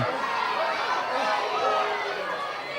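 A wrestling crowd in a hall during a live show, a steady dense wash of voices and jeers filling the space without pause.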